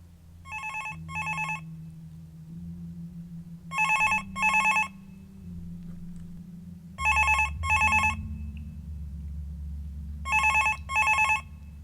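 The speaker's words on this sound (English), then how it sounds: "the ringing of the phone proved to be extremely irritating" A telephone rings late at night, in four pairs of double rings separated by pauses, over a low steady hum.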